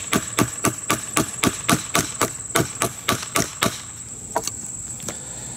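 A TOPS MSK 2.5 Mini scandi knife chops notches into wood with a brisk, even run of about a dozen sharp close knocks. The strikes then slow to a few lighter taps.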